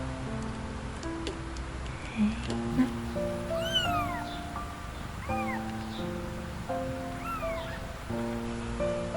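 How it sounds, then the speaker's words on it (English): Repeated high, thin mews from week-old kittens rise and fall over a steady musical background, several short cries spaced a second or two apart. "You had little kittens."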